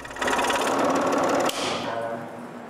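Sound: cutting a wooden letter in two

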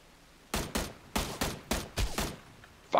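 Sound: sniper rifle gunfire in PUBG video game

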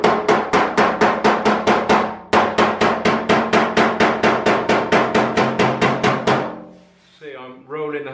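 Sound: panel hammer glancing blows beating a dent in car bodywork

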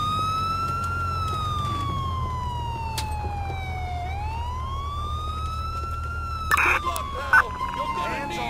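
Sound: police car siren in Grand Theft Auto IV video game

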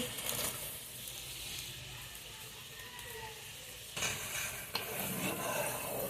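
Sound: fried bitter gourd stirred into dal in a pot

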